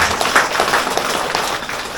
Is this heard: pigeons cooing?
no